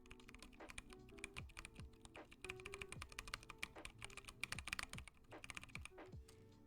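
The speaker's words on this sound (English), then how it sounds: "This keyboard uses Zelios 67 grams. But I like them because they sound like Legos." Mechanical keyboard fitted with Zealios 67 g switches and dampeners, typed on in a steady, fast clatter of crisp keystrokes, close and fairly quiet, heard alone.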